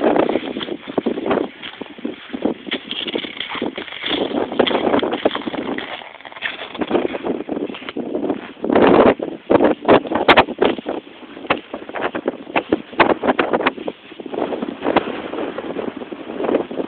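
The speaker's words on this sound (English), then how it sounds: "As you can hear, it's pretty damn fucking windy out here." Strong winter-storm wind roars outdoors, buffeting the microphone in loud, continuous gusts with rumbling surges throughout.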